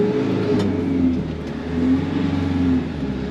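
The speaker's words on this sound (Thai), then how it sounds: "และนี่จะเป็นครั้งแรกนะครับ ที่เราขับรถบรรทุก" A CP Foton Aumark Flex truck's engine revs and pulls as it accelerates along the road, a loud, close drone that rises and swells in waves, with no talking.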